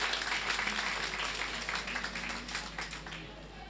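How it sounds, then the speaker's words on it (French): Audience applause at a student eloquence contest in a hall, a steady wash of clapping over the whole span that fades slightly toward the end, with some murmuring voices underneath. "Applaudissez, s'il vous plaît"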